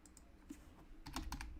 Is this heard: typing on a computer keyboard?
yes